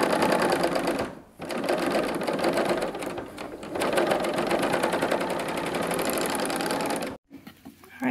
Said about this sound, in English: So I'm gonna come back and serge across one more time, make sure I catch all of that.